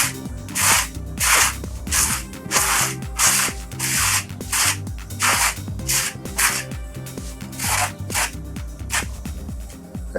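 Scraping and rubbing strokes work old gilding off the gesso of a picture frame, coming in loud rhythmic bursts about once a second, close by, with no talking.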